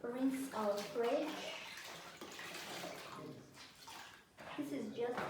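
Plain water rinses the inside of a refrigerator, a running, splashing wash heard beneath a prominent singing voice throughout.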